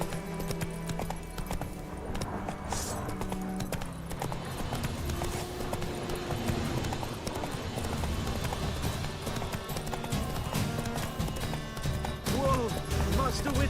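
Horse hoofbeats clip-clopping at a run in The Witcher 3 video game, a steady rhythmic gallop heard against in-game ambience, with talking over it throughout.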